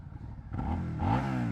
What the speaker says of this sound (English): Lovely V-twin sound.